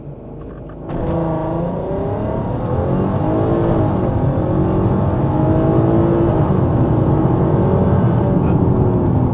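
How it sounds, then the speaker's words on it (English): A loud Volkswagen Golf Mk5 R launches from a standstill in a 0 to 100 run, its engine note jumping up and then rising steadily through the gears in a continuous, close roar heard from inside the cabin. "we're going to do our first 0 to 100 launch in the Golf here"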